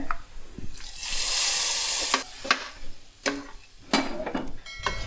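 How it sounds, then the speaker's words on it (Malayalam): Coconut pieces frying in ghee over low heat for jackfruit payasam, giving a soft continuous sizzle broken by sharp clinks and scrapes of stirring, close and without talk. "ഇനി നമുക്ക് തേങ്ങാക്കൊത്തിട്ട് വറുത്തെടുക്കാം"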